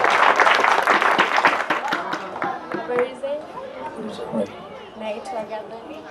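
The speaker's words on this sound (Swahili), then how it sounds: "tupige makofi tafadhali" An audience gives a burst of loud clapping that tapers off over a few seconds, and voices talk over the fading applause.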